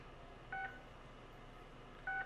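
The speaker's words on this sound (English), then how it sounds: "Once the recipe has finished, the oven will make an alert noise" Two short electronic alert beeps from an Alto-Shaam Combitherm combi oven, each a brief two-tone chirp about a second and a half apart, clear against a quiet background hum.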